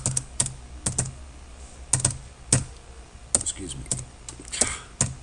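Typing a page name on a computer keyboard while building a WordPress website, irregular sharp key clicks in small clusters, moderately close, with a person talking at times.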